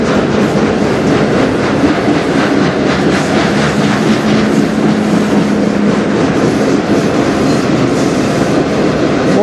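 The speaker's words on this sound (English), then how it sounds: "We got another train right behind it going by." A CN train rumbles steadily past on the tracks in Sarnia, Ontario, loud and close, with a continuous clattering roar and a faint tonal hum throughout.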